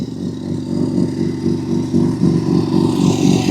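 A rotary-engine car idles steadily nearby, with an even, throbbing low rumble and no talk over it.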